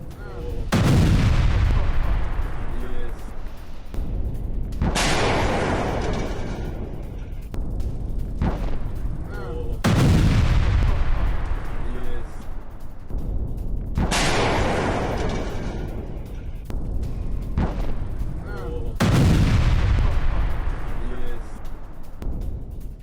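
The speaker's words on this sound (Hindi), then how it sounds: "डोनेस्क में रूस का आर्टिलरी अटैक। घर में छिपे यूक्रेनी सैनिकों पर हमला किया गया है।" Russian artillery shelling a house sheltering Ukrainian soldiers in Donetsk, with loud booming impacts about every five seconds, each a sharp blast that fades into a long rumbling decay.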